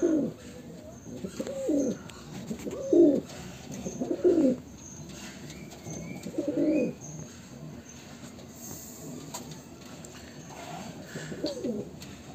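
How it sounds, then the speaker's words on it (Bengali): A male flying pigeon coos up close in a series of short, throaty bursts, about five spaced phrases in the first half, then fainter calls later over a quiet indoor background. "একটি নর পায়রা"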